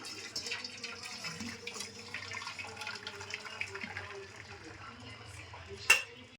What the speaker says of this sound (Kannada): ಸಾವಿಗೆ ಬೆಂದಿದೆ, ನಾವು ಸ್ಟ್ರೈನ್ ಮಾಡ್ಕೊಳ್ಳೋಣ.